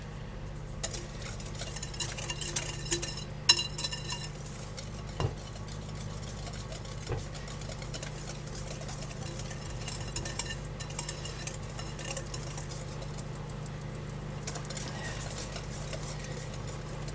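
An electric mixer beats pumpkin cranberry bread batter, a steady low motor hum running throughout with faint clinks and ticks of the beaters against the bowl, fairly quiet and without talk.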